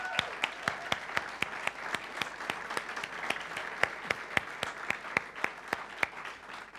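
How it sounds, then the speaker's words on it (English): A church congregation at a Sunday service claps for newly confirmed members, steady rhythmic claps in a roughly even beat, moderately distant in a reverberant room. "You might want to give our confirmees a round of applause."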